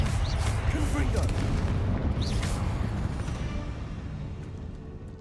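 A Confringo fire spell bursting in Hogwarts Legacy, a broad rumbling blast that fills the opening seconds and then slowly fades into a dull roar.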